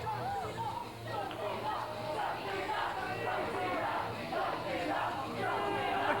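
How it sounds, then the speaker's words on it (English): Crowd at a Frontier Wrestling Alliance pro wrestling show cheering for Alex Shane, a dense, steady roar of many voices with shouts rising and falling throughout, loud and continuous. "The cheers of the crowd ring in the ears of Alex Shane."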